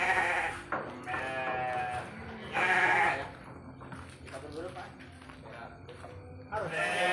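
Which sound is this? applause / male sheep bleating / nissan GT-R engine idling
male sheep bleating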